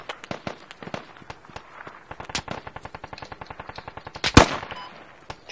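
Rapid automatic gunfire in the military shooter Squad, evenly spaced sharp shots in long bursts at moderate distance, ending with a loud close crack and a jolt.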